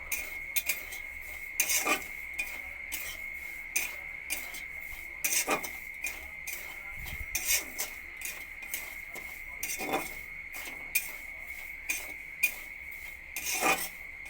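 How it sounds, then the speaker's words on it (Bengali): Semolina being roasted in a pan while it is stirred constantly, giving close, repeated gritty scrapes and rubs at an uneven rhythm over a faint steady background hum, with no talking. "সুজিটাকে আমি লাল করে ভেজে নেব ততক্ষণ লাল হচ্ছে সুজিটা ততক্ষণ অনবরত নাড়াচাড়া করে দেব"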